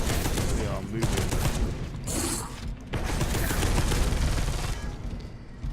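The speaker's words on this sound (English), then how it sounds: "that's what that assault cannon does" Sustained rapid automatic fire from an assault cannon in the Warhammer Deathwing video game, a loud continuous mechanical clatter with brief breaks, with faint game sounds around it.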